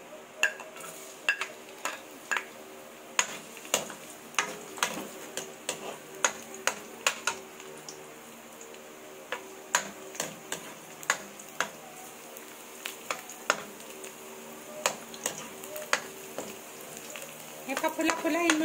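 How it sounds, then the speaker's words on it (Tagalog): Garlic sautés in a hot pan, a soft continuous sizzle broken by frequent sharp ticks and clicks of a utensil stirring against the pan, close and steady. "mainit na yung ating kawali. Ayan. Gisa muna tayo. Lagyan natin ang ating garlic."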